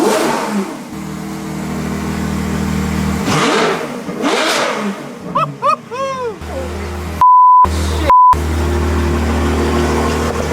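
A Ferrari F12 engine with straight pipes and its exhaust valve off revs and roars with rising and falling pitch, then two sharp electronic beeps cut in, near and loud throughout.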